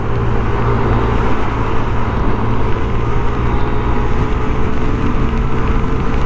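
A rented motorcycle engine runs steadily on a dark road near Makassar, Indonesia, a constant loud drone mixed with road and wind rumble and no clear rise in pitch.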